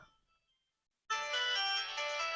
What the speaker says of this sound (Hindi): दूसरे वाले फोन पे कॉल आ रहा है